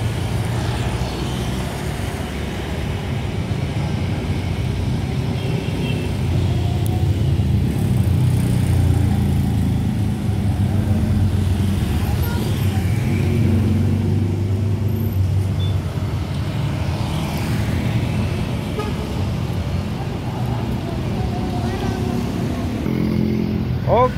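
A Putra Pelangi non-stop intercity bus departs from a roadside stop in Aceh at night, its engine a steady low rumble throughout with passing traffic noise around it.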